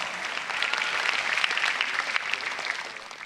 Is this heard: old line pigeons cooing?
no